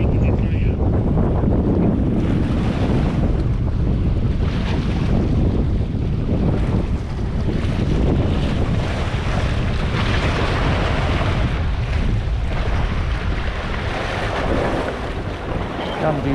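Wind gusts steadily across the microphone on a pier at Durban's North Pier, with waves washing and surging below. The sound is loud and continuous, with no voices.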